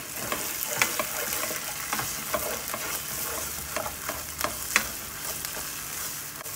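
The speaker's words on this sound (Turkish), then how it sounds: "Salçayı iyice bir kavuracağız önce." A heaped spoonful of tomato paste sautéing with onions in a pot for sulu köfte gives a soft, steady sizzle, with frequent scraping stirs of a spoon against the pot, fairly quiet and close, no talk.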